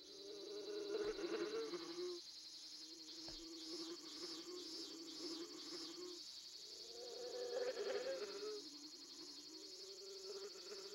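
Bees buzzing around a large hanging hive in the game Boku no Natsuyasumi, a steady droning hum that swells and fades, heard alone with light background ambience.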